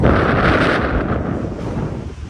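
A strong beach wind roars across the microphone in one heavy, sustained gust that eases slightly toward the end, loud and unbroken.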